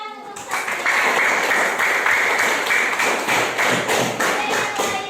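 A classroom of students breaks into applause for a classmate, a dense burst of close hand clapping that starts abruptly and holds steady for several seconds.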